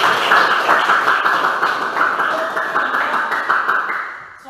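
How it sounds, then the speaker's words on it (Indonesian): Classroom group clapping hands together in a steady, close burst of applause lasting a few seconds before stopping. "saya lagi berikan tepuk tangan yang meriah untuk kita semua"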